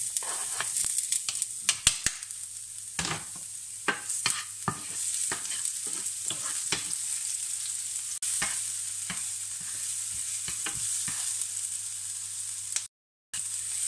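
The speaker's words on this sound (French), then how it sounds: "On va commencer par faire revenir les oignons." Onions sautéing in a pan of hot olive oil crackle with a continuous, even sizzle, punctuated by frequent scraping and tapping of a utensil stirring them. The sound cuts out briefly near the end.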